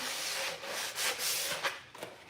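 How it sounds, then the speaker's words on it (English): Steady rasping strokes of hand sanding on painted wooden furniture, close and continuous with slight swells as the sandpaper moves back and forth. "we're just getting that good and sanded"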